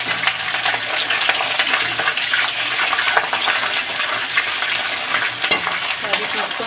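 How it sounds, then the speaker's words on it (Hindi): Onion and dried red chilli frying hard in a pan for a cauliflower, potato and pea curry, a loud, continuous close sizzle with scattered crackles and occasional stirring scrapes. "अच्छे से हमारा सब चीज फ्राई हो रहा है बढ़िया से।"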